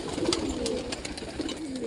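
Pigeons in a loft with their chicks coo in a steady low murmur nearby, the soft throaty calls overlapping throughout.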